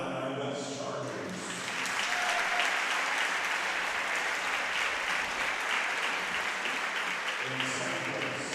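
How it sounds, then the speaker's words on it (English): Audience applauds the third place team, the Illini West Chargers, at a girls' volleyball tournament; sustained clapping fills the whole stretch, with a voice on a loudspeaker briefly at the start and near the end. "we would like to give a round of applause to our third place team in this tournament, Illini West Chargers."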